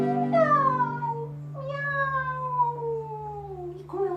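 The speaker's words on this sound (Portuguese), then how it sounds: "Um gatinho olhou pra mim e fez assim, miau," A cat gives long, drawn-out meows with falling pitch, loud and close, over a steady low musical drone from a children's animal-sounds song.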